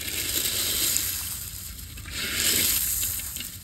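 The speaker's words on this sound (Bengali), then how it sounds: "পাট শাক একেবারে মশমশা হয়ে গেছে, এগুলো আমি হাতে গুঁড়ি করে নিলাম।" Crispy dried jute leaves are crumbled by hand, producing close, dry crackling and crunching in two soft swells, with no talk.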